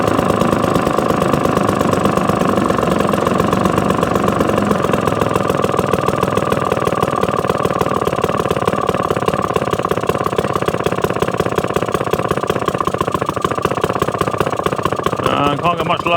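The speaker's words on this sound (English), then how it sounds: "Let's see if we can't get it to idle down a touch more." A vintage 1954 Atco Villiers two-stroke lawn mower engine idles low and steady with a rapid, even putter, loud and close throughout.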